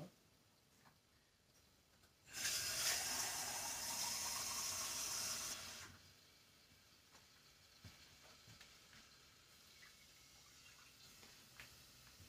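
Kitchen tap running into a sink, a bright hissing gush that starts suddenly, holds for about three seconds and cuts off, leaving faint drips and small clinks in a quiet room.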